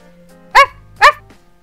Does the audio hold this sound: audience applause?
no